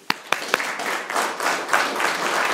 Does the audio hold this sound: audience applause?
yes